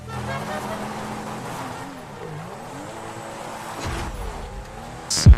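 A Cognoscenti Cabrio in GTA Online drives along with a steady engine drone that rises and dips as it shifts, followed by a loud sharp impact near the end.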